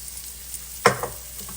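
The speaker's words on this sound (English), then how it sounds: "We're going to saute this for about 5 minutes or so." Chopped mushrooms, carrot and onion sautéing in a pan give a steady low sizzle, with one sharp burst of frying crackle partway through as the pan is stirred or food added.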